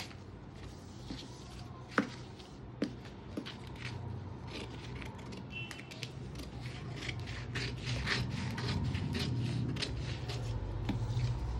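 Scissors cut through blouse sleeve fabric close by, giving repeated crisp snips and rustling fabric over a steady low background hum, with no talk over them.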